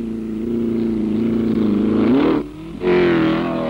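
A 1963 racing car roars flat out along a circuit straight, its engine note climbing before a sudden cut under heavy braking into a hairpin, then snarling back hard on the power; loud and close, no talk.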